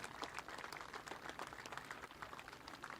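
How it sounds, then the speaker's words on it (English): Faint, distant applause from a crowd at a speedway memorial event at Lake of the Woods Speedway, steady scattered clapping for about three seconds. "Big round of applause for her being brave, coming out, turning some laps"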